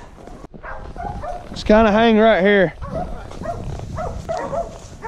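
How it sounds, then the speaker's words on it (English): Cattle dogs bay at a herd of cattle during a roundup. One loud, drawn-out wavering bay rises mid-clip over fainter barking and outdoor noise, while someone speaks quietly before and after. "that's a beautiful sound, ain't it? Uh-huh. All them dogs bait up on the herd."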